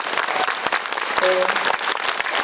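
Audience applause for author Banana Yoshimoto at a cinema talk for a Korean film, dense sustained clapping from a crowd with a brief faint voice-like tone partway through.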